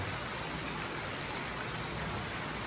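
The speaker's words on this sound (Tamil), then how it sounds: "இப்படி சடச்சடன்னு அடித்து மழை ஊற்றிட்டு இருக்கு" Heavy rain pours down hard and steadily as a dense, continuous hiss outdoors, with no voices over it.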